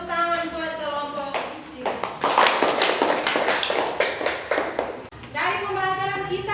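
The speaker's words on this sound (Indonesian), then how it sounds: "Tepuk tangan buat kelompok." A class bursts into applause for a presentation group, a few seconds of dense, lively clapping with children's voices, and a teacher speaking before and after.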